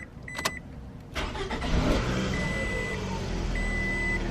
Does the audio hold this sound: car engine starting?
yes